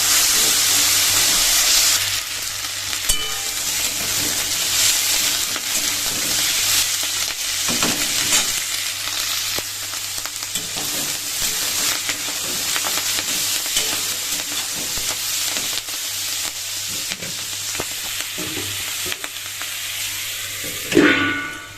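Whole cumin and dried red chillies sizzle in hot oil in a pan, a loud continuous close hiss with occasional spoon scrapes and crackles, no talk, swelling briefly at the very end.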